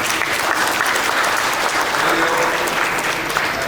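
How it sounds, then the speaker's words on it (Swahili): Audience applause at a public presentation on Tanzania's mining sector, many hands clapping steadily and densely for several seconds with no talk over it. "Kipiga makofi."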